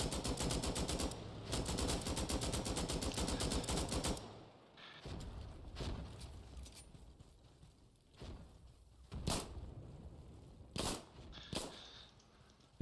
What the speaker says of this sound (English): Same dude is shooting me again.